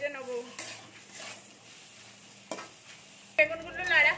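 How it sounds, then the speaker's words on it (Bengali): Eggplant frying with salt and turmeric in a pan, a soft sizzle under a few sharp metal stirring scrapes and clinks, close, with a brief voice-like tone at the start. "এটা একটু ভেজে নেবো।"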